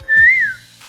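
A person whistles a single smooth, rising-then-falling note in imitation of a koel's call, close and clear, lasting under a second with no talk.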